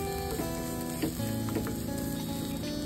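Sliced spring onion greens sizzle steadily in hot oil while being lightly fried for crispy paneer, with soft crackles and a continuous hiss close by and no voices.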